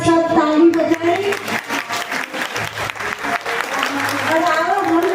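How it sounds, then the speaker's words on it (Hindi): An audience claps together at a spiritual ceremony celebrating a woman's symbolic marriage to Lord Shiva, a brisk burst of applause that carries on throughout, with music and voices mixed in. "एक बार सब ताली बजाएं"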